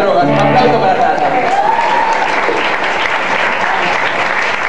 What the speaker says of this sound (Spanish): Un aplauso para Rata.